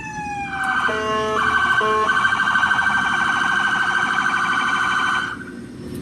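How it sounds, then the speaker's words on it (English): A loud electronic police siren wails steadily for several seconds, with a brief two-tone yelp near the start, then cuts off abruptly. "we have different ways of doing the sirens. So we have a wail."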